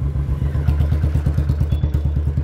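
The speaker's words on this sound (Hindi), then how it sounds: "बहुत तेज आवाज आ रही है पटाखे की" A Royal Enfield Bullet 350 motorcycle thumps loudly and close by, its exhaust popping in a rapid, steady string of firecracker-like backfires over the low engine rumble.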